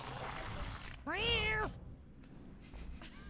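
A cat in the BioShock 2 video game gives a single clear, rising-then-falling meow lasting about half a second, loud against a faint background of game ambience, with brief murmuring before it.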